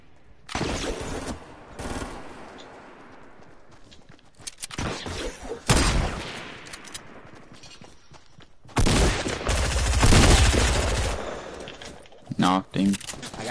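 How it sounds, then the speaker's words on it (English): Fortnite gunfire comes in several loud bursts of rapid automatic shots and heavy blasts, separated by quieter gaps, with players talking over and between the volleys. "I hear gunshot."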